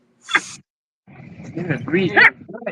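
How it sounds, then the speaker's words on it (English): A small dog gives a sharp bark, then a run of louder yapping barks mixes with a person talking nearby. "He's got a loud bark for a little guy."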